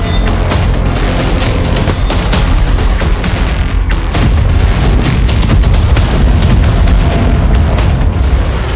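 Explosions from a Russian missile strike on Ukrainian airfields, a loud, sustained barrage of booms and blasts with crackling bursts, continuous and heavy across the whole stretch.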